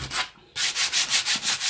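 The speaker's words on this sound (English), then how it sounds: "I've just got my 60 grit sandpaper" Hand sanding of spiral-pour resin coat hooks with 60 grit sandpaper: close, steady back-and-forth rasping strokes, about seven in a regular rhythm after a brief pause, with no other sounds.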